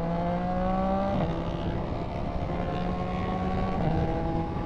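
A Ninja motorcycle engine drones loud and close, its steady harmonic tone climbing in pitch and then dropping briefly at two points as if shifting, with no voices over it.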